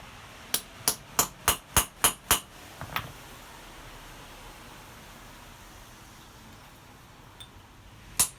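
Hammer blows on weathered rebar, squaring up a hole for a rivet while making a coffee scoop: seven sharp, evenly spaced metallic strikes in quick succession, a softer tap, then quiet before one last ringing hit.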